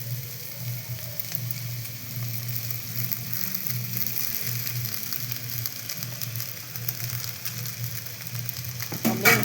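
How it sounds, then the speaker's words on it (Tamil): Vegetables and chilli powder sautéing in a pan for cauliflower fried rice, producing a continuous moderate sizzle with light crackle throughout and a slight rise at the very end. "நல்லா வதக்கலாம்."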